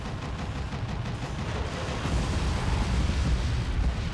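Power missiles fire in the Twisted Metal vehicular combat game, a dense rumbling barrage of explosive blasts that swells louder toward the end, continuous and close, with no talk over it.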